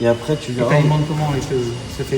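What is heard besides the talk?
No everyday noises stand out.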